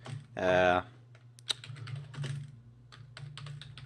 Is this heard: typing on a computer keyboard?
yes